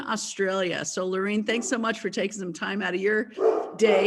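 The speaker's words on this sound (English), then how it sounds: "I know that's my dog." A dog barks and yips repeatedly in the background while someone talks over a call, the barking mixed in with and partly masked by her speech.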